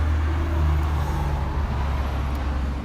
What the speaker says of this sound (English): pardon any road noise, we're right next to I-40